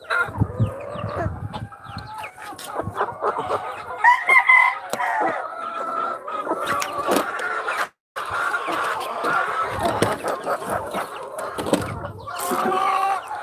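Chickens in a chicken barn cluck, squawk and crow close up in a dense, continuous flock noise, with one brief drop-out partway through before the racket carries on.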